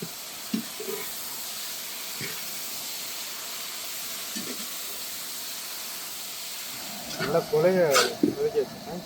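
About 200 grams of tomatoes sauté in a pan for a thick vegetable salna, giving a faint, steady sizzling hiss throughout. Brief clatters and stirring noises rise near the end.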